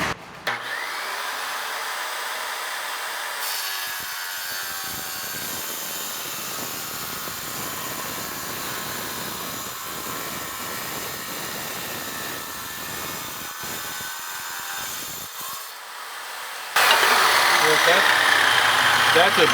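A Ridgid 7-inch wet tile saw runs close and loud, its steady whine changing in tone as the blade grinds through Italian porcelain tile, then rises sharply near the end; a voice speaks over it.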